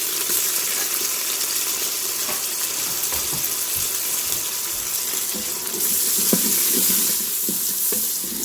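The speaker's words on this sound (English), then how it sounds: "So we are going to add chilies and saute it for a minute." Chilies sautéing with browned onions in an Instant Pot, a steady close sizzle and hiss with occasional stirring scrapes and clicks, no one talking.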